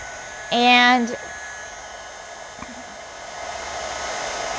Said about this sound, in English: I'm using my Wow heat tool today. I've got it on setting number 1.